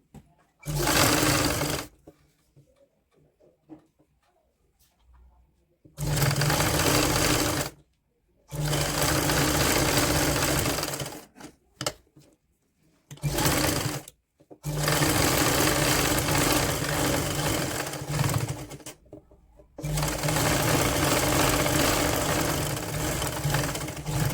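A sewing machine stitches a child's woolen night suit in a series of loud, steady whirring bursts of a few seconds each, separated by short pauses.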